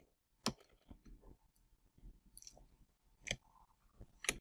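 Keys pressed on a computer keyboard while working in a Linux terminal, a few sparse, separate clicks with quiet gaps between them, close and faint.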